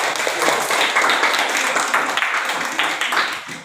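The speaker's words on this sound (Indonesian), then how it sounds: "Oke, kasih tepuk tangan untuk semuanya dulu." A group, likely schoolchildren in a classroom, gives a round of clapping: fast, fairly close hand claps in a busy, continuous patter lasting a few seconds with a slight rhythmic pulse.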